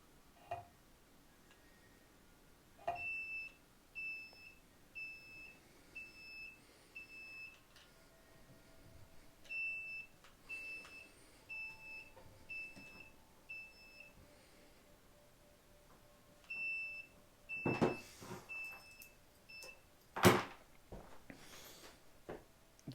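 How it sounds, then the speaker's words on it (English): An electric dirtbike controller with a wiring fault beeps over and over in quick high-pitched bursts. The bursts come in regular groups, with faint clicks and handling noises in between and a few sharper knocks near the end. "this thing is beeping excessive amount of times, which means there's a problem"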